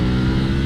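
A Ducati Panigale V4S sport motorcycle's V4 engine gives a loud, steady, throaty rumble up close, a brief continuous roar with no talking over it.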